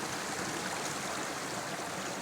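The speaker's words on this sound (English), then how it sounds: "so we are back at the creek" Creek water rushing steadily in the Canadian Rockies of Kananaskis Country, a dense, continuous broadband wash close to the microphone with no pauses or voices.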